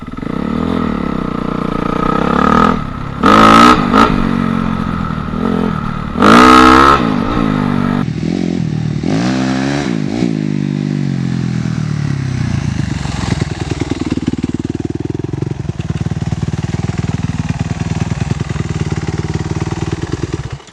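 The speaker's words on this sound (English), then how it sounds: "So that is how you drive the dirt bike." Dirt bike engine revving while riding, loud and close, with bursts of throttle and rising, falling pitch early on, then a rougher running drone as the bike moves off.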